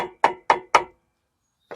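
Four quick, evenly spaced knocks as a new brake pad is tapped into place on the rear brake of a 2017 Genesis G90, close and sharp, then a pause and a fifth tap.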